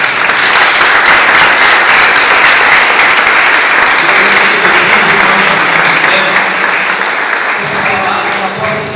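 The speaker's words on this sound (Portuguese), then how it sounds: "Vamos aplaudir essa palavra" A church congregation gives loud, dense applause after a sermon. The clapping fills the space for several seconds, then thins toward the end as a voice starts to come through.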